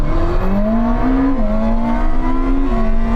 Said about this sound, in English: Okay, second gear roll on from 30 miles an hour.